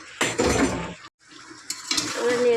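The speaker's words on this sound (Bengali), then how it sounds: "এবারে নেড়ে চেড়ে দেবো।" Ridge gourd and potato curry is stirred in a pot, with clattering scrapes and knocks of a spoon in two bursts separated by a brief silence, close and loud, no talk.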